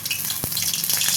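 Mustard seeds and urad dal dropped into hot oil in a kadai, a close, bright crackling sizzle with a brief pop in the middle, lasting about a second.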